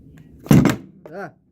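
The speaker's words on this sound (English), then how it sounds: "As I go and drop it." A VooPoo Drag 157 box mod is dropped, landing with a single short, close thunk followed by a brief voiced sound.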